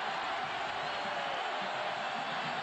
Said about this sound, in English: Sudden the crowd, who had kind of sat on their hands after halftime, standing up and trying to make some noise.